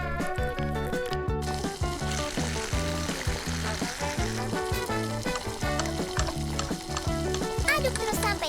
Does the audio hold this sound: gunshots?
no